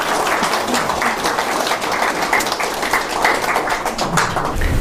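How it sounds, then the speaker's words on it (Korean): People at a tax office lecture in Busan clap together in a steady, close burst of applause that continues throughout with no talk over it. "좀 괜찮으면 박수 한번 치도 되는데"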